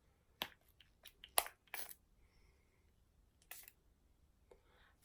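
A pump dispenser of brush-on tan is pressed onto a brush, giving a few sharp, quiet plastic clicks and short spritzes spaced apart in an otherwise silent setting.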